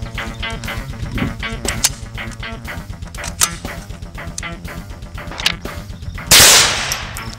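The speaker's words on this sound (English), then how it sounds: "this is a 22LR" A 22LR handgun fired at a BulletSafe bulletproof vest gives a series of sharp, fairly close shots spaced irregularly, followed near the end by a louder burst of noise.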